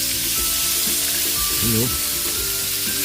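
Chicken frying in hot oil, a dense steady sizzle filling the whole stretch, close and loud, with a brief spoken word over it.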